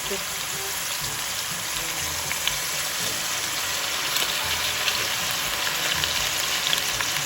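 Salmon head and belly fry in a pan with a splash of fish sauce, a dense steady sizzle filling the scene at close range, with a voice speaking faintly over it.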